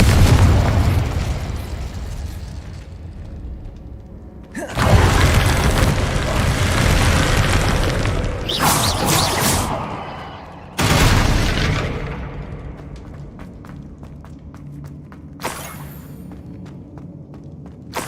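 Confringo blasting spells bursting in Hogwarts Legacy: several loud booming explosions at irregular intervals, sharp attacks followed by long rumbling decays, with crackling debris between blasts and no talk.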